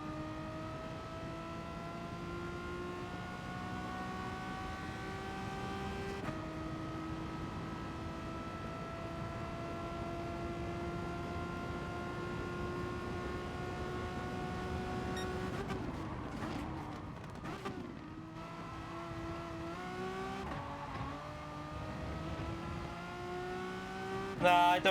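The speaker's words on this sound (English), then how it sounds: "that Ferrari should just go flying past this Megane here" Race car engines in Gran Turismo Sport as a Ferrari closes on a Renault Megane, a steady, droning engine tone with shifting pitch, then gear changes and a brief scramble of revs near the end.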